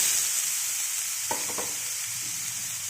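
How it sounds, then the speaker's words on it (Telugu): Beetroot hitting hot ghee in a pan for beetroot halwa: a steady sizzle with a brief burst of stirring scrapes near the middle, close and alone. "ఇప్పుడు బీట్రూట్ని వేసేద్దాం."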